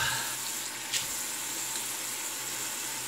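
Tap water runs steadily into a bathroom sink ahead of a wet shave, a constant close hiss and splash with a brief splashy touch near the start and no talking.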